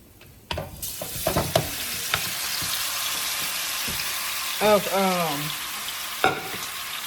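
Oxtails hit hot vegetable oil in a pot and sizzle steadily as they begin to brown, with a few clanks and scrapes as the meat is placed and moved, and a brief voice partway through.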